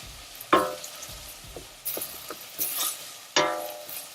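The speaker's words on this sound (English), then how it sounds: "I will now add my peppers and my onions and garlic to saute" Peppers, onions and garlic sauté in butter over high flame, a low steady sizzle with a few sharp clatters of a spoon against the pan and a brief louder hiss as the vegetables are stirred.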